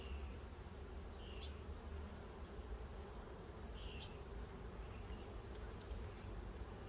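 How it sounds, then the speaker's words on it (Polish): Honeybees swarm over a hive frame, a steady dense buzz close by with a few louder individual bees passing near, and no talk. "Młodej pszczoły trochę szarej chodzi."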